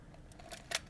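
A Nikon F3 film camera shutter fires once, a quick, crisp mechanical click near the end of a short quiet moment, close and clean.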